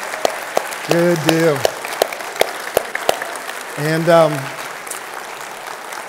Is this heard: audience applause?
yes